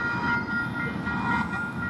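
A freight train rolls past, a steady broad rumble with sustained tonal whine from the wagons, fairly loud and continuous throughout with no talking.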